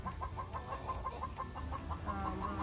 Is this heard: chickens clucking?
yes